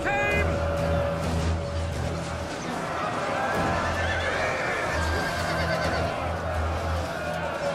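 Horses neigh repeatedly during a cavalry battle in the strategy game Attila: Total War, loud shrill whinnies over a dense roar of combat noise, with someone talking over the action.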